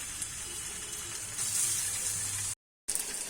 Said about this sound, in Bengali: পনির মশলা করতে প্রথমে পনিরগুলোকে আমি সাদা তেলে ভেজে নেব।